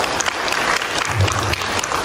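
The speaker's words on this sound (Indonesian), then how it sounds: "Boleh tepuk tangan buat Pulau Rinca." An audience applauds for Pulau Rinca during an arts seminar, a steady dense patter of many hands clapping that fills the whole moment without letup.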